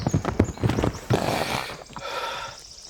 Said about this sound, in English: A pair of horses came his way, at no full gallop, but clearly in haste